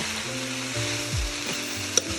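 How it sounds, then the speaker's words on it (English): Cabbage stir-fries in a wok with a steady, close sizzle and crackle, plus a brief stirring scrape and clink near the end. "Gotta cook my cabbage down a little bit more."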